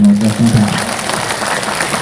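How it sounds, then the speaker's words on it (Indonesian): A crowd at a large Islamic sermon gathering in Majenang, Indonesia, applauds with a dense wash of clapping while a voice speaks briefly at the start. "Tepuk tangan."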